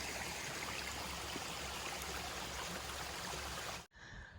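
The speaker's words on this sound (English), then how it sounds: "Some of these little creek beds are flowing." A small creek flowing along a dry Appalachian Trail creek bed, a soft steady hiss and trickle of running water that cuts off abruptly near the end.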